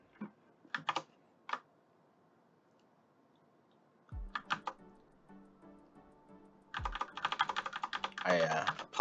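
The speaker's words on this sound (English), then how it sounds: "I apologize for my very clicky keyboard." Clicky computer keyboard typed in short bursts while designing 1/12 scale action figure accessories in Tinkercad, a few isolated keystrokes followed by quicker runs of crisp clacks with a low hum and faint thumps beneath.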